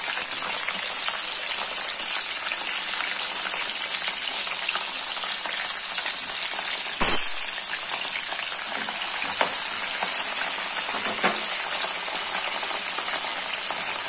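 Soaked, peeled peanuts frying in hot oil for masala peanuts give a steady, dense sizzle that runs unbroken throughout, close and fairly loud, with a few faint stirring knocks along the way.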